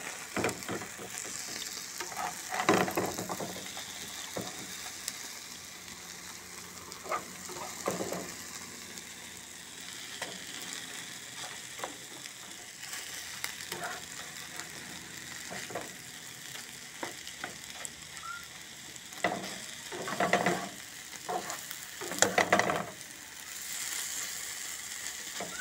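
Mexican-style eggs sizzle steadily in a pan while a utensil scrapes and stirs them in intermittent bursts, with louder scraping near the end; no one talks.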